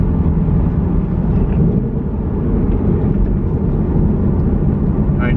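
A Ford Mustang engine drones steadily from inside the cabin, a low, continuous rumble that dips briefly as the driver shifts gears through a weighted shift knob, with no talking.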